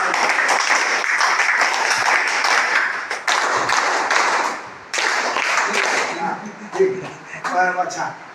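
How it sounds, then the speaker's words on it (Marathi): A crowd claps together at a community meeting of a disabled, elderly and destitute people's association branch in Gonkuda, Kinwat, Maharashtra. The rhythmic applause is loud and close, with brief pauses, and a voice rises near the end. "आता हे झालं दोन टाळे झाले"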